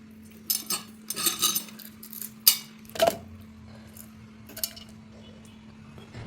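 Shallots are crushed for a dried prawn dish, giving a string of sharp metallic clinks and knocks in irregular bursts, close and fairly crisp over a faint steady hum.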